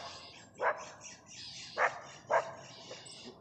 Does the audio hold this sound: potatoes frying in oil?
no